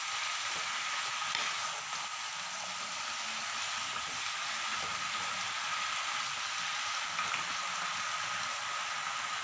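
Malabar spinach curry cooks in a pan, giving a soft, steady sizzling hiss that holds evenly throughout at low volume.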